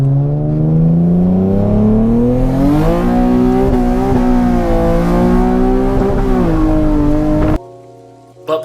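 A Nissan 370Z with a loud exhaust revs hard and holds a high, rising engine drone for several seconds, heard up close from inside, then cuts off abruptly.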